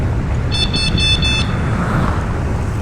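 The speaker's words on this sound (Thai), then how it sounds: "เห็นไหมใครว่าแตรไม่สำคัญ" Four short, high-pitched beeping honks in quick succession from a Speedway V electric scooter horn, heard over a steady low rumble of road noise.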